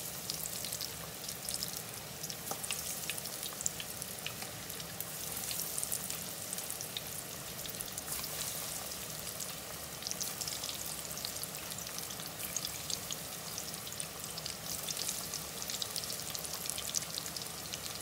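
Sturgeon and halibut fish nuggets fry in a pan with a steady, dense sizzle that runs unbroken and fairly loud throughout, with no voices over it.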